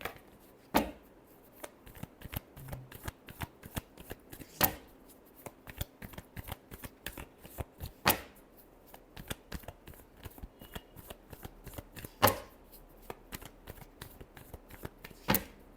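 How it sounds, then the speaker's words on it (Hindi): Tarot cards shuffled by hand: a long, steady run of close, crisp riffling clicks and flutters, with periodic louder snaps as the deck is squared, and no voice. "Last shuffle."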